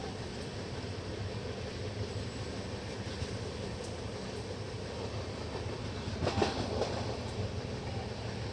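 The Kashi Vishwanath Express passenger train runs along the rails on the Delhi to Banaras line, a continuous rolling rumble with rhythmic wheel clatter, swelling slightly near the end, with no voices.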